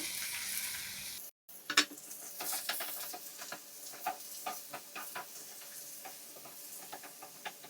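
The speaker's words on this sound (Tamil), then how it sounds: "இப்போ வெங்காயம் நல்லா வதங்கிட்டு இப்போ 2 மீடியம் சைஸ் தக்காளி இந்த மாதிரி கட் பண்ணி சேர்த்துக்கிறேன்" Onion, garlic, ginger and tomato sauté in a pan for tomato chutney: a faint, steady sizzle broken by repeated light scraping and stirring ticks, with a momentary dropout early on and no speech.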